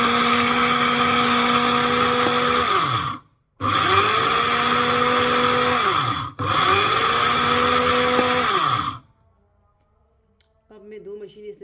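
An electric spice grinder whirs loudly in three long bursts, grinding cardamom and fennel seeds, each run pitch-dropping as it stops, followed by a quiet pause and faint voices at the end.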